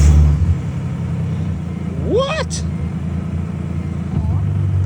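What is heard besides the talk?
car engine starting and running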